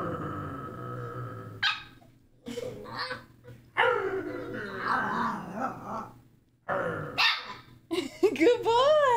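Dog growling and barking from The Witcher 3 video game, several short bursts spread through the scene, with people talking over and between them.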